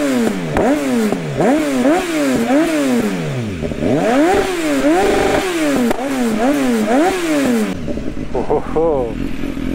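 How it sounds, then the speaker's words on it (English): A BMW S1000XR motorcycle with a straight-pipe exhaust revs hard outdoors in wind, a loud close series of rising and falling blips, about a dozen sharp revs, then a quick flurry of smaller blips near the end. "let's hear this exhaust."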